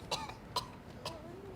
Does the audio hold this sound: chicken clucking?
no